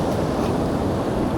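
Strong sea waves breaking on a beach in La Union make a loud, continuous roar of surf with heavy wind noise buffeting the microphone, and no voices.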